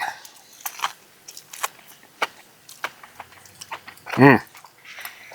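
Someone chews crunchy bacon-wrapped kielbasa while cold-weather camping in the snow. The bites come as close, irregular crackling crunches, with a louder, longer crunch near the end.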